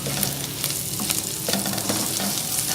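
Ginger, garlic, chili and turmeric sizzle steadily in a hot pan, with occasional stirring scrapes and clinks over a continuous frying hiss, close and moderately loud.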